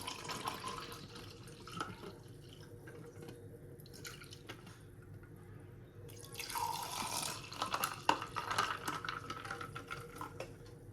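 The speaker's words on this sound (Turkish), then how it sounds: "Sütümü şöyle ekliyorum." Milk is poured over ice and banana for a banana cold coffee, a soft close liquid pour that swells louder in its second half with splashy trickling, alone without talking.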